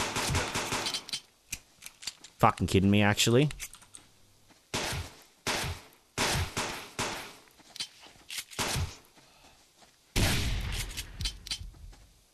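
Bursts of automatic gunfire in the survival game Subsistence come in short, sharp clusters, with a longer sustained burst partway through and more near the end, interrupted by a player's loud, frustrated cursing.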